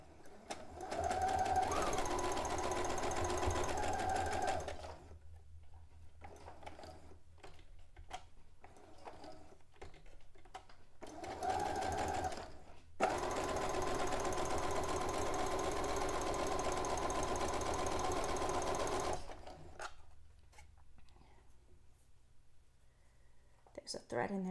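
A sewing machine stitches a cone-shaped avant-garde cape in two sustained runs of several seconds, with a short burst between them and quiet handling pauses in the gaps, where a soft voice murmurs.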